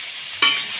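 Ridge gourd dropped into a pan of frying vegetables for a millet khichdi, a quiet hiss suddenly swelling into a louder sizzle midway, with no talk.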